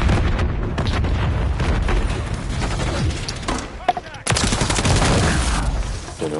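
Rocket launcher and gunfire in the video game Call of Duty MW3 sound as a loud, continuous barrage of blasts and booms with a sharp explosive hit near the middle, heard up close.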